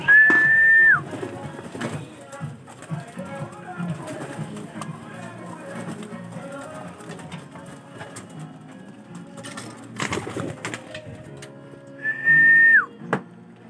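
Pigeons at a loft after returning from flight, with soft cooing and bird calls running steadily throughout, broken by a couple of loud whistle bursts near the start and end.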